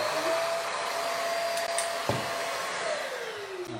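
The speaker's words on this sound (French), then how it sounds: "Je vais allumer l'aspirateur." A vacuum cleaner roars steadily nearby with a high whine during a Peugeot paint-stripping demonstration, a brief knock partway through and a shifting tone near the end.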